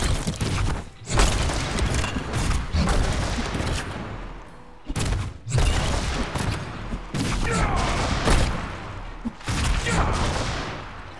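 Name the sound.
destroying objects in video game Diablo 3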